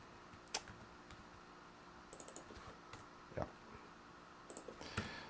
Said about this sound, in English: a lot of typing stuff which I may mistype